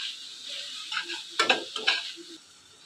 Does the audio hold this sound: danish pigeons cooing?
no